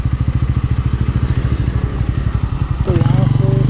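A new Bajaj Pulsar N160 motorcycle engine thuds in a fast, regular pulse during a gear-by-gear speed test, loud and close, then jumps to a higher, smoother pitch as it revs near the end.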